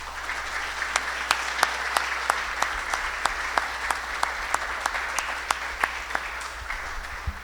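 A tribunal audience claps steadily and warmly, many hands blending into a continuous patter with some louder single claps standing out, and there is no speech.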